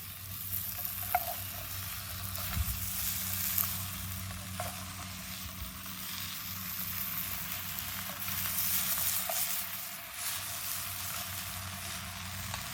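Greasy kielbasa sausages with carrots sizzle continuously in a Dutch oven over a campfire, a dense, even crackle with occasional soft stirring scrapes.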